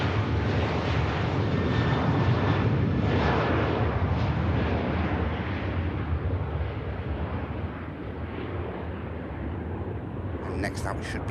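An airliner departing Manchester Airport for Malaga roars close by, a dense, loud jet-engine rush that stays strong, then gradually fades a little toward the end.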